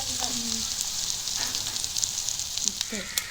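Onions sizzling and frying in a pan for a village-style liver curry, a steady loud crackle with occasional stirring scrapes, and a voice speaking briefly beneath it.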